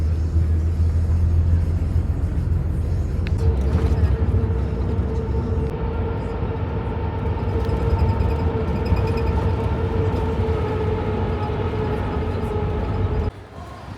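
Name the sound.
bus ride on a rough road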